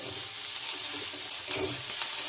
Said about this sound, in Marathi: मध्यम आकाराचे दोन कांदे उभे चिरून आहेत ते लालच्या रंगावर आपल्याला तेलात परतून घ्यायचे